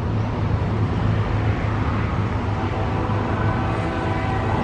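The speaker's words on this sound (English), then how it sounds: "You can barely hear that train coming." Train approaching in downtown Tupelo, Mississippi: a low, steady rumble that stays constant throughout, distant and faint, heard alone without any talk.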